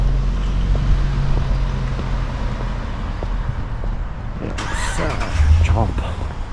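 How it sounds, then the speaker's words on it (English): Cars pass along Wickenden Street in a steady roadway rumble, with one vehicle sweeping close by in a louder whoosh near the end while someone talks over it. "There's some traffic here. We'll let them go."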